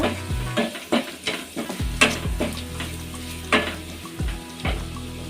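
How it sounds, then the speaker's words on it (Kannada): Onions frying with egg masala powder, chilli powder and pepper are stirred in a pan: irregular scraping strokes of a spoon over a continuous, close sizzle. "ಈಗ ಈರುಳ್ಳಿ ಜೊತೆಗೇ ಮಸಾಲೆ ಎಲ್ಲ ಹಾಕಿ ಒಂದೆರಡು ನಿಮಿಷ ಫ್ರೈ ಮಾಡಿಕೊಂಡ್ರೆ ಸಾಕು"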